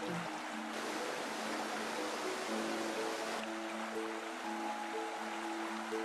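Rushing water of a waterfall plays steadily from start to finish in a short nature video, a dense continuous wash with faint tonal hum underneath and no voices.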